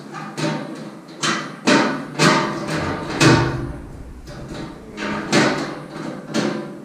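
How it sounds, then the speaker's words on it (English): A homemade hot tent stove for an ice fishing shelter has its metal door repeatedly swung and latched shut, giving a series of close, sharp clanks and thuds about every second, with no talk. "Just make sure my door closes."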